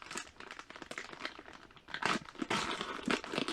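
Plastic bag of noodles being sliced open with a knife at a hot tent campsite, heard as close, quiet crinkling and tearing bursts that grow louder toward the end.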